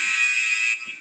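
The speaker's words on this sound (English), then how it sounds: "there was the buzzer" A workout interval timer buzzer sounds in a continuous loud electronic tone for most of a second before cutting off, with brief low rustling around it.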